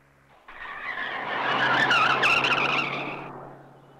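A car driving fast and skidding, with a long tire squeal that swells, holds loudly for a couple of seconds, then fades, heard alone without talk.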